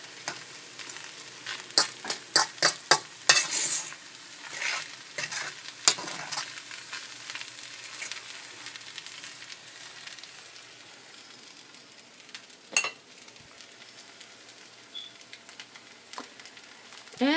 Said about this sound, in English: You just let it sizzle, cook, and just add the flavor together and you mix it together.